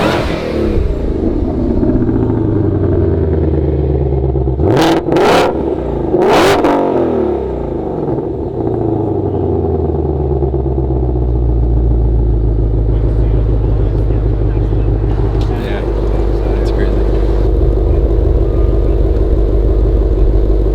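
Pre-production Ford Mustang GT500 engine revving up and down, a loud deep rumble with rising and falling pitch sweeps, two sharp bursts in the middle, continuing close and steady throughout.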